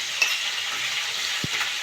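Shrimp frying in a pan with beetroot, turmeric and salt make a steady broadband sizzle throughout, with a soft low stir or tap near the end.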